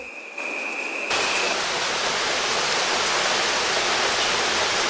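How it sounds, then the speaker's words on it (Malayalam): Ezhara Kundu waterfall in a Kannur forest pours with a dense, steady roar of rushing water, close and loud, rising to full strength after a brief quieter opening and holding unbroken to the end. "കണ്ണൂർ ഏഴരക്കുണ്ട് വെള്ളച്ചാട്ടം അത്ര അടിപൊളിയാണ്"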